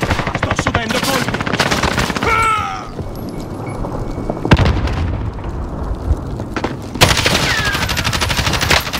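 Automatic gunfire in Call of Duty: Modern Warfare, a Battle Royale match, as rounds strike the player: dense rapid bursts at the start, a lull with scattered shots, then heavy sustained fire again, loud and close with some speech mixed in.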